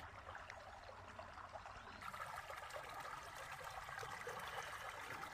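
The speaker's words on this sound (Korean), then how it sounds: "물소리도 좋고" A clean mountain valley stream flows steadily nearby, a continuous bright trickling and babbling rush that stays even throughout at a moderate level, with no voices.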